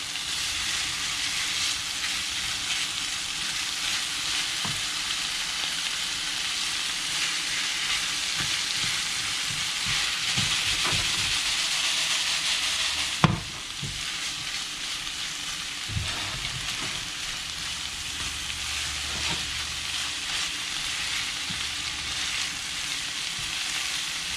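Saltfish (salted codfish) sautéing in a pan during ackee and saltfish preparation, a steady close sizzle and hiss throughout with occasional stirring clicks and a sharp knock near the middle.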